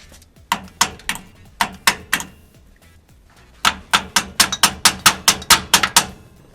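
Sharp, rhythmic hammer strikes ring out against metal while fitting extended brake lines on a fifth-generation Toyota 4Runner: a short burst of blows, a brief pause, then a faster, louder run of repeated hits.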